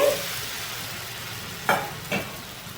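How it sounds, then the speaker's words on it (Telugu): Thick tamarind extract poured into a simmering fish pulusu curry pan gives a steady soft sizzle, with two short splashy bursts as it lands. No one speaks. "ఇందాక మనం తీసి పెట్టుకొని వచ్చుకున్న చింతపండు పులుసుని ఎంత కావాలంత చిక్కగా వేసుకోండి"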